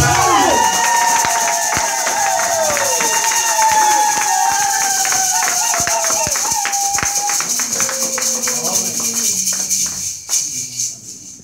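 A congregation at a church service applauds and cheers as an elder is called up, with sustained crowd noise, scattered claps and high shouts or whistles that fade toward the end.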